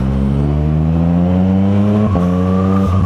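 A loud motorcycle engine revs steadily upward in pitch, drops briefly, then climbs again, close and continuous with no voices.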